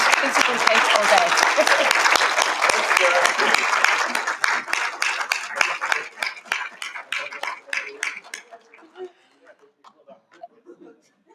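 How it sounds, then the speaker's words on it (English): An audience applauds steadily at a NIME 2025 conference town hall plenary, then the clapping thins out into scattered individual claps before fading to quiet. "Let's give them a round of applause."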